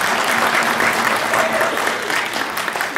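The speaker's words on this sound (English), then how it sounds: "Always applaud a musician before they play" Dense, loud applause fills a church hall as an audience claps for a big band musician at a Christmas concert, a steady wash of many hands close by, easing slightly toward the end.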